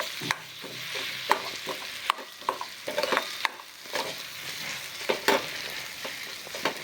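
Curry leaves and fresh coriander crackle and sizzle in hot oil in a frying pan, a steady close frying hiss broken by sharp pops and bursts of spattering throughout, with stirring and no voices.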